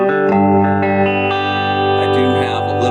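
A 1976 Les Paul played through a Roland Blues Cube amp on its 5 watt setting, with a touch of reverb and the middle pickup positions selected, rings out in sustained, fairly clean chords and notes that overlap one another.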